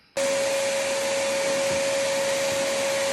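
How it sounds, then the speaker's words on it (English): Shop vac switching on abruptly to suck plastic pieces out of a Ski-doo 850 Turbo snowmobile air box, a loud, steady, close whine and rushing airflow that holds constant after startup, with no talking. "We'll just hit that with a shop vac, suck it out, and then we'll install the vent."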